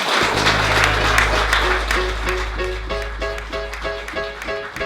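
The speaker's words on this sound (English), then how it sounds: "Big round of applause for that." Audience applause at an evening crowdfunding talk, a dense wash of clapping that thins toward the end as a steady low hum and tonal music-like sounds come through.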